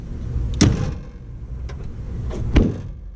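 A car door on a turbocharged Integra with an engine swap shuts twice, each a firm thud a couple of seconds apart, close by, with softer handling noises between and no speech.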